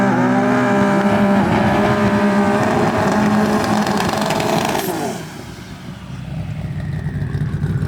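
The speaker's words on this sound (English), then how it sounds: "You got some Fast Boy GTRs rolling up." Nissan GT-R drag cars rolling up at a drag strip during a TX2K22 event: a loud, sustained engine drone with a rising pitch that fades briefly around the middle, then returns as a lower rumble.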